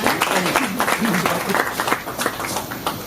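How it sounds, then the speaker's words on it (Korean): Audience applause at a Korean commemorative event for a scholarship foundation's mainnet launch, dense clapping running throughout with voices mixed in. "큰 박수 부탁드립니다."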